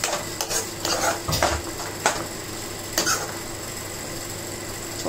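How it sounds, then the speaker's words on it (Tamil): Cooked pasta stirred into palak spinach paste in a pan, heard as soft, wet scraping and a few light clinks of the spoon against metal, close and fairly faint over a quiet background hum. "குக் பண்ணி வச்ச பாஸ்தாவை ஆட் பண்ணிவிட்டு நல்லா இந்த பாலக் பேஸ்ட்டோட மிக்ஸ் பண்ணிக்கலாம்"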